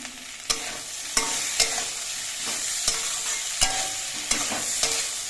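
Drumstick flowers with a little sugar frying in oil, a steady close sizzle broken by regular sharp scrapes and taps of a spatula stirring the pan.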